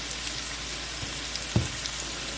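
Apple slices sautéing in a pan for a pork chop onion pan sauce make a soft, even sizzle, broken by one brief clunk of a utensil midway.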